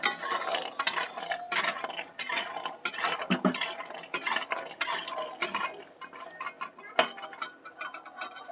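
Fried lentil badi lifted from a pan of hot oil: close metallic clinks and scrapes of a utensil against the pan, in irregular bursts with light sizzle beneath, no voices.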